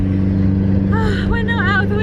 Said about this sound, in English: as you can probably hear, the bad news is we are minus a piece of the exhaust